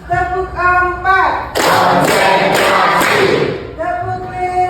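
Students in a classroom strike a quick clapping rhythm together, a loud packed flurry of claps lasting a couple of seconds, framed by a teacher speaking before and after.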